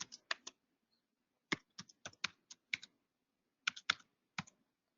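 Bursts of computer keyboard typing while editing a connection string, quick clusters of close, crisp key clicks separated by short pauses in an otherwise quiet room.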